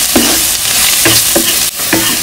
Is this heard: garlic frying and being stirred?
yes